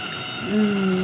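A metro train starts to move: a steady mechanical hum rises midway into a sustained, climbing electric whine, heard from nearby.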